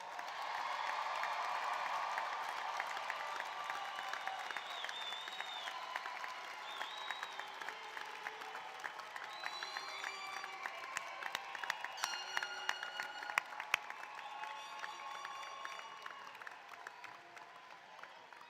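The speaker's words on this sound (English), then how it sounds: "please join me in another round of applause for our graduates" Audience applause and some cheering for graduates at a spring commencement ceremony, a broad crowd wash of clapping that swells early and then gradually thins out, heard from some distance in a large venue.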